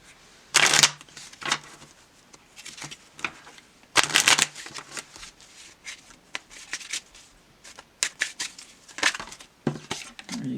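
Tarot cards are shuffled in several quick bursts of riffling and flapping, separated by short pauses and softer handling sounds.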